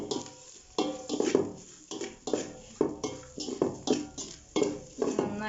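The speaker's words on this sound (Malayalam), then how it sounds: "നന്നായിട്ട് ഇളക്കി കൊടുക്കുക." Grated coconut being roasted and stirred in a pan for a Nutrimix Amritam snack, with repeated scraping and clinking strokes of a utensil against the metal, steady rhythmic stirring up close, no talking.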